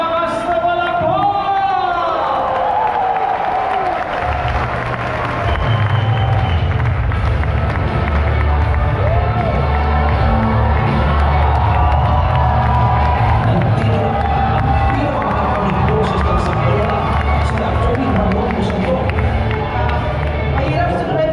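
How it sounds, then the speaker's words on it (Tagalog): A crowd at a Filipino political rally claps and cheers for a speaker: a long, loud, continuous roar of shouting, whooping and applause from many people, swelling and sustained for about twenty seconds. "Isang malakas na palakpak."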